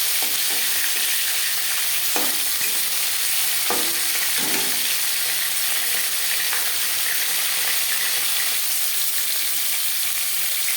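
An Aar fish head fries in hot oil in a wok, giving a loud, steady, close sizzle throughout with a few faint clicks of a utensil and no talking.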